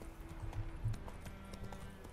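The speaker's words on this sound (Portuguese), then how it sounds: "Montar no cavalo agora" Horse hooves in The Witcher 3 give a soft, steady clip-clop at a trotting rhythm, fairly quiet under a faint background ambience.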